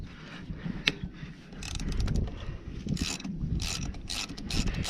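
Ratchet wrench removing a nut on the back of a Ford 7.3 Powerstroke A/C compressor: a sharp tap, then bursts of quick clicking ratchet strokes, close and fairly quiet, with no talking.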